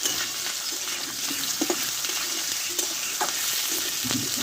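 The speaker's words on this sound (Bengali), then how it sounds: "আদা লঙ্কা দেওয়ার পরে আমি আলুগুলোকে দিয়ে দেবো সবগুলো একসঙ্গে ভালোভাবে কষে নেবো" Potatoes frying with chopped ginger and green chili in oil, a steady close sizzle broken by occasional spatula scrapes and stirring taps.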